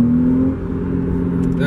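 A Porsche C4S engine hums loudly up close, its drone steady with a pitch that shifts slightly as it works under load.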